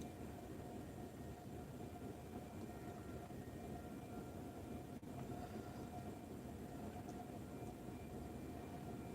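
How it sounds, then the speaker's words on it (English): A freight train rumbles steadily through a railroad crossing in Nebraska, a continuous close, loud rolling drone of rail cars with no voices. "Now it seems like the train is backing up."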